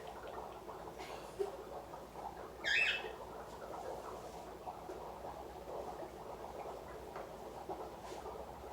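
Pet bird Guapa gives a brief bright chirp around the middle, standing out over a steady low room hum with faint background clatter.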